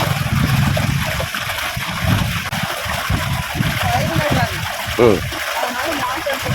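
Water flows and splashes through a banana garden, a continuous loud gurgling stream close by, with a voice talking over it at times.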